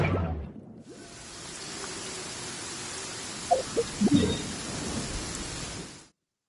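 Steady rain falls continuously with a dense, even hiss, a few close drips and patters standing out near the end before the sound cuts off abruptly.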